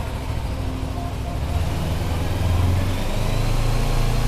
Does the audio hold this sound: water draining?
no